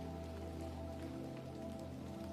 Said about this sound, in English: raindrops falling from his peculiar ceiling system.